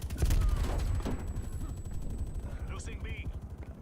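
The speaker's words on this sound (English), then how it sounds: "now I have my sniper of choice, the hand cannon" Rapid bursts of hand cannon fire in an online shooter game, a dense run of sharp shots stacking close together under ongoing voice chatter and game noise.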